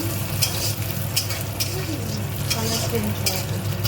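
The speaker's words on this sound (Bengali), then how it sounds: "তারপর এগুলোকে নেড়ে ভেজে নেব" Raisins, peanuts, cashews and coconut shreds fry in a pan while being stirred, a close, continuous sizzle broken by repeated scraping strokes of a spatula.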